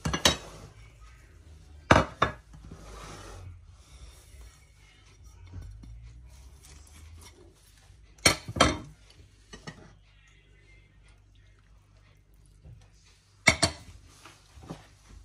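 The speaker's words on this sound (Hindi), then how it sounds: "अब इन सारी चीज़ों को कीमे में डाल के मिक्स कर लेंगे।" Utensils clink against a bowl as melted butter and gram flour are worked into raw chicken mince for seekh kebabs, with a few sharp scrapes and taps standing out over quiet, steady mixing.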